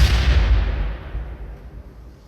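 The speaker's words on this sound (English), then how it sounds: "Where's that grenade going? That grenade isn't even going to hit us." A grenade goes off in Rimworld with a single loud, close explosion that spreads a deep rumbling tail, fading slowly over a couple of seconds.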